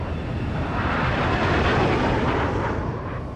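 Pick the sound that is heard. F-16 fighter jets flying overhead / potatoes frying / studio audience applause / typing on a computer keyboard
F-16 fighter jets flying overhead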